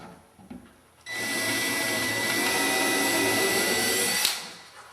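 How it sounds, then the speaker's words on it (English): A power drill pre-drills screw holes during cabinet installation, its motor whirring steadily and loudly for about three seconds before winding down, with no talking. "And I'll pre-drill my holes."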